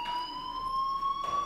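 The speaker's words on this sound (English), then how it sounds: "Hey, do you hear that fire alarm?" A fire alarm in the video game Life is Strange rings with a steady, piercing electronic tone that holds one pitch throughout, moderately loud with faint background noise beneath it.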